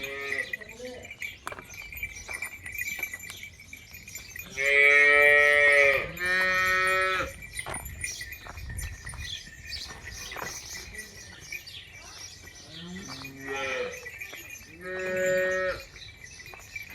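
A medium-sized dairy cow in its second calving, giving 18 litres of milk, lows in long loud calls, two in quick succession and more later, over a quiet farmyard with faint bird chirps.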